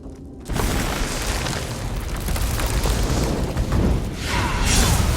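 A grey reliquary is blown apart in the video game Elder Scrolls Online, a sudden loud booming blast followed by a sustained rumbling roar and a second surge near the end.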